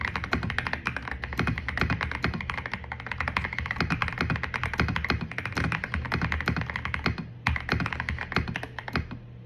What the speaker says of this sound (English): Is she out here like typing in a Google Doc